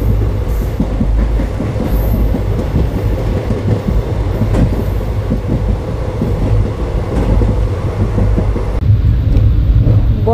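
Train rolling along rails near Guwahati, a steady loud rumble with rattling wheel and carriage noise throughout, continuous and close, with a slight change in tone near the end.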